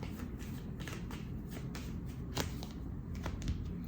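Playing cards are shuffled and dealt in a quiet indoor setting, with a steady run of soft riffling and small, crisp snaps as cards land. The sounds are close and faint.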